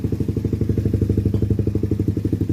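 A Raider 150 motorcycle engine with a noisy Keihin carburetor idles close up, a loud, low, evenly pulsing chug with a rattling clatter riding on each beat.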